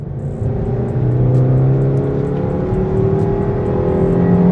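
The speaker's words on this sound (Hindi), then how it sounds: "एसी को करते हैं of, raving till 5000 RPM, let's go." A Maruti Baleno's 1.2-litre K-series petrol engine revs to 5000 rpm, a loud, smooth, rising drone heard close from inside the car and held steadily, with no voices.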